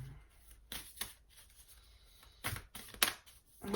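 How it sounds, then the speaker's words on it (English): Tarot cards are shuffled by hand in soft, irregular riffles and flicks, faint and close, with short bursts of card noise separated by quiet gaps and no talk. "I'm still shuffling because for whatever reason the cards don't want to fall out"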